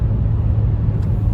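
Steady low engine drone from a 2023 Nissan Versa S with a manual gearbox, cruising in fourth gear at about 3,000 RPM, a constant rumble with road noise and no talk.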